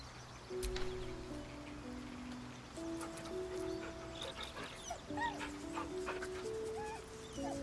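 A dog in Baldur's Gate 3 whimpers and yips in thin, high whines that come in short bursts over several seconds, set against a quiet game backdrop of sustained musical tones and faint rustling.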